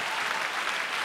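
An audience applauds after a song performance, a dense, steady wash of clapping that fills the whole moment without a break.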